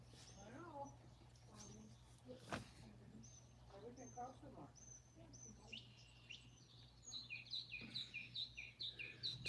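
Birds chirp and trill outdoors around a house in the morning, a scatter of short high calls that thickens toward the end, with a steady low hum beneath and a sharp knock partway through.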